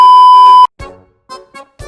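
A transit card reader at a Kaohsiung metro gate lets out a loud, sustained electronic beep that cuts off sharply, followed by a few short clipped sounds.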